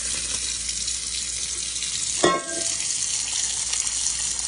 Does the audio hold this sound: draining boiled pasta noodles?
yes